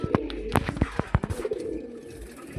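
A female pigeon coos close by in soft, throaty bursts, with quick clicks and rustles scattered between the calls.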